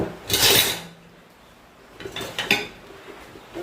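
Vessels for a microwave oven, metal and plastic containers, are handled at close range, giving two bursts of clattering and clinking separated by a quiet pause, with no talking.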